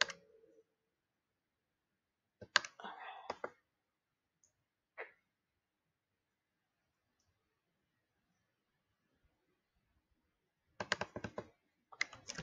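Typing on a computer keyboard comes in a few short, quiet bursts of clicking keys with long silent gaps between them, close by and with no voices.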